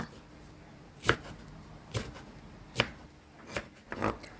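Knife blade cutting grated carrot strands into short pieces on a board, with about five separate soft chops spaced irregularly, close and fairly quiet.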